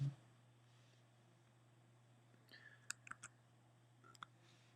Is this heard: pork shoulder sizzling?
no